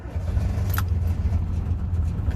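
The two-stroke engine of a Subaru 360 van starts up and runs, close by, with a steady, buzzy low rumble and a brief high squeal near the start, with no talk.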